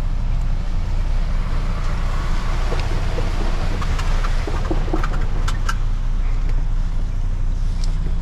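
A MAN HGV truck engine idles steadily after the ignition is switched on, a loud, continuous low rumble heard from the cab, with faint clicks and taps over the top.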